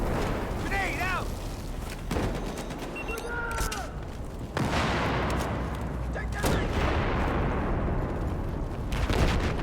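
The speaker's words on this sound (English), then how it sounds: "grenade out." Gunfire and a thrown grenade's blast in a Battlefield match, loud, broadband bursts and rumbling booms filling the scene, with voices and chirping game tones mixed in among the combat noise.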